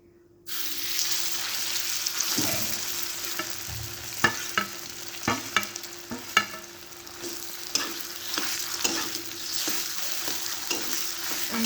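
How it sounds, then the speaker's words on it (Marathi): Chutney seasoned with amchur powder hits very hot oil in a pan and frying bursts into a steady sizzle, with repeated clinks and scrapes of stirring close by and no voices. "कडकडीत असं तेल गरम झालं आहे आता आपल्याला ही चटणी त्यामध्ये टाकायची आहे"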